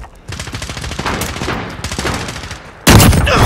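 Video game gunfire crackles in rapid bursts of shots that keep overlapping, with a much louder volley near the end. All of it is close and dense.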